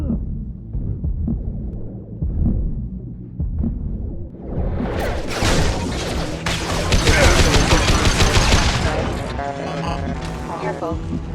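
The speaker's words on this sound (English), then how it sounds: "Taking heavy fire!" Heavy gunfire erupts in the Mass Effect 2 video game, dense bursts of shots building after a quieter stretch, loud and sustained, with game voices speaking over the fighting.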